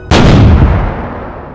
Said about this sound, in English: And then the explosion.